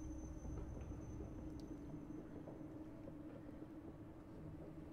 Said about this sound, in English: Now that's a commuter train right there.